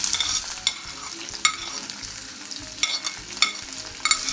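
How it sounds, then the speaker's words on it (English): Garlic, ginger, chilies, onions and capsicum frying over a high flame, with repeated clattering stirs of a spatula every second or so over a bright continuous sizzle, close and loud with no talking. "Fry them all for about a minute on high flame."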